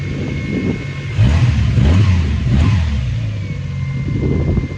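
A Mazda MX5 engine runs while charging its battery, idling close by with a steady mid-pitched hum that rises in a couple of brief revs before settling back to an even idle.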